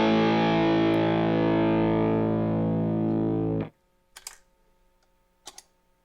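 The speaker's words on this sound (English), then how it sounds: "heavier fuzz tone, and it has a really degraded sound" A thick, heavily distorted, degraded fuzz guitar chord from a pedalboard preset rings out loud and gritty for a few seconds, then cuts off abruptly, leaving near silence with a couple of faint clicks.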